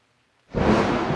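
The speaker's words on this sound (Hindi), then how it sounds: "बारिश।" Silence breaks suddenly into a loud, steady rush of heavy rain, close and continuous, like a downpour heard through an opened window.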